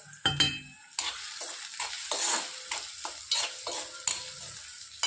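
Upma ingredients with chili fry in a pan while a spoon stirs, producing repeated scraping strokes and bursts of sizzle in an uneven rhythm, close and moderately loud, with a few clinks of utensil on metal.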